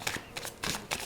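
Tarot cards are drawn from a deck during a reading, four or five quick, faint papery flicks and slides within about a second, close and quiet, with no speech.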